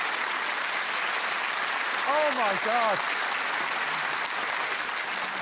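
Studio audience applause on a comedy panel show, steady loud clapping throughout with a voice exclaiming briefly over it midway.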